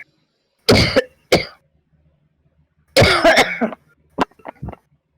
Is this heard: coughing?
yes